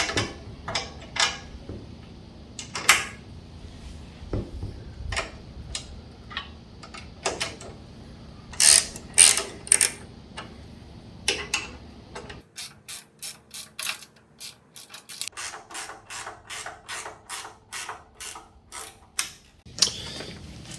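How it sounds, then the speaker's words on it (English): Two combination wrenches tightening the front rail bolts on a Harvey table saw produce repeated metallic ratcheting clicks and clanks in bursts, with fast rhythmic clicking runs and quiet gaps, close and with no speech. "So I'm using 2 combination wrenches to install the front bolts."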